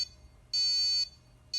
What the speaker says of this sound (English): So the alarm's ringing because it got detected movement.